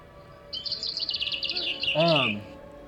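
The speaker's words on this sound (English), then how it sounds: "I also love the birds chirping." Birds chirp and tweet in a quick high-pitched run, followed by a short, lower warbling call. The calls are fairly near and carry over a quiet, steady background.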